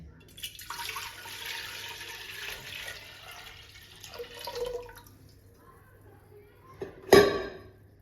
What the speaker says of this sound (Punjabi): ਹੁਣ ਆਪਾਂ ਕੁੱਕਰ ਦੇ ਵਿੱਚ ਪਾਣੀ ਪਾਵਾਂਗੇ